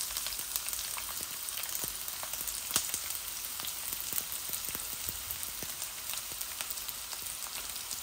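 Whole garlic cloves and onions fry in a hot pan with a steady, dense sizzle and scattered crackling pops throughout, close and continuous with no talking.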